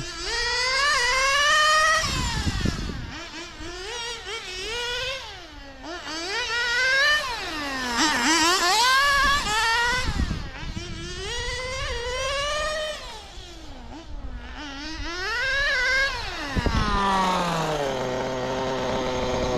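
A Colt10 RC car with an OS 15RX nitro engine running slightly rich buzzes loudly, its high whine rising and falling repeatedly as the throttle opens and closes, with brief dips between passes.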